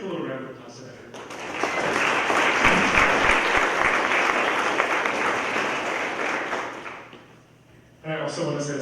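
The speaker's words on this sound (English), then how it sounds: "Let's give a little round of applause to that." A round of applause for a steering committee at a conference welcome session, a dense sustained clapping from a seated audience that swells, holds for several seconds and fades, with voices speaking briefly before and after.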